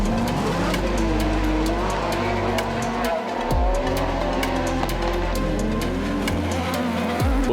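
Autocross race cars on a dirt circuit at a European championship round, engines roaring loud and continuous with rising and falling revs, several sharp gear-change dips as cars pass close by.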